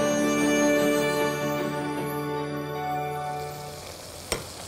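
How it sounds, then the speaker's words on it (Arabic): Spinach sautés and is stirred in a pot, a soft continuous sizzle with faint scraping strokes that fades gradually, ending in one brief sharp knock. "ونقلب هنا السبانخ عشان نتأكد ان كله تتشوح"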